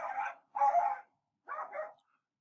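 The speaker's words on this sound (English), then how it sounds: "Sorry about the dog barking, by the way." A dog barks three times in quick succession, two close together then a third after a pause, clear and fairly near with silence between.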